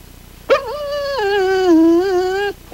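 A terrier dog gives one long, close, high-pitched whimper that wavers and stretches into a drawn-out yip before cutting off abruptly, with a short sound returning at the end.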